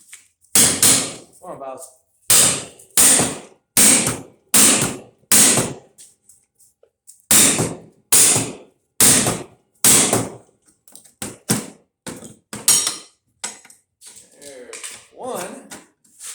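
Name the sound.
sledgehammer and flat bar busting parts out of a dehumidifier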